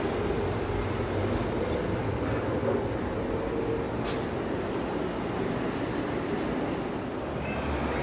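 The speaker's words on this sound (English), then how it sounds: "Another C train." A C train rolls through Tai Shui Hang Station, a steady, loud rumble of wheels and carriages passing close by with no one speaking.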